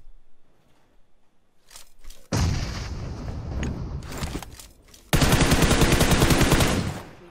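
Automatic gunfire in the mobile battle-royale game PUBG Mobile on the Miramar map, starting with quiet scattered shots, then a loud sustained burst, a short lull and a second long rapid volley close by.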